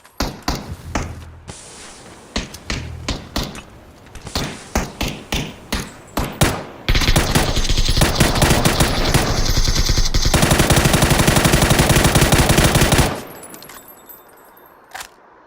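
PUBG gunfire on the Karakin map: a series of separate single shots, then long sustained bursts of rapid automatic fire, loud and close, ending in quieter ambience.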